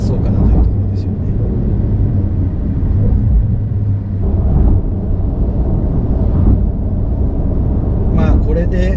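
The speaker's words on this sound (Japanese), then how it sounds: "もうちょっとだったら6000ぐらいまで回そうかなというところですよね" Porsche 911 Carrera engine pulling hard toward 6000 rpm on an open road, a loud steady drone with wind rush and a brief voice near the end.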